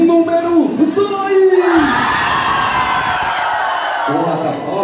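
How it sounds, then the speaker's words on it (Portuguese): A packed crowd at a beiradão dance contest shouts, whoops and cheers loudly for a competing couple, a continuous roar with a voice yelling over it. "Cadê o grito para o casal número"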